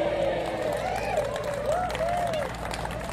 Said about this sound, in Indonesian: Dari tepuk tangannya kelihatan nggak bertenaga.